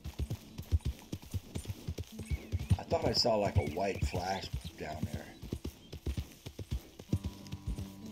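Horse hooves clip-clop at a steady riding pace in the Red Dead Redemption 2 video game, with someone talking over them.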